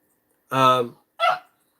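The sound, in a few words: dog barking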